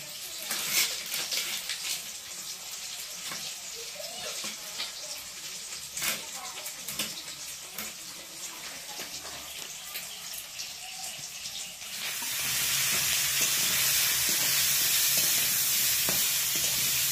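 Bagda prawns frying in spiced masala: a close, crackling sizzle with stirring scrapes that swells into a louder, denser hiss near the end.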